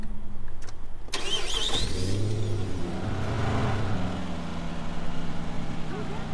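A car engine in Watch Dogs cranks and catches, then settles into a low steady idle, loud and close, with someone talking over it.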